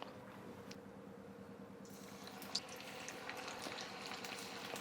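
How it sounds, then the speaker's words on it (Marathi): Bhaji fritters deep frying in hot oil, a steady dense crackle and bubbling that runs throughout at moderate level, with one brief sharper pop midway and no talk. "आता आपण आपले भजी तळून घेऊयात."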